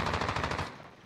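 Automatic gunfire in the video game Warzone, a loud close burst of about eight rapid shots that cuts off and fades into a short tail.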